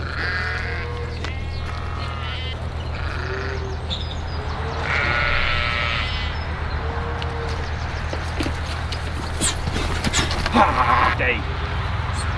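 Sheep bleat repeatedly on a farm, wavering calls coming in separate bursts against a steady low engine-like drone, with a person talking nearby at times.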